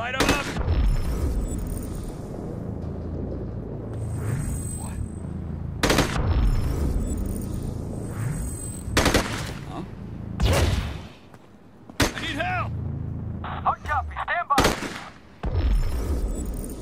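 Repeated bursts of gunfire ring out in the Gemini Heroes Reborn video game, loud sharp volleys spaced irregularly across a busy action soundtrack, with voices shouting between the shots.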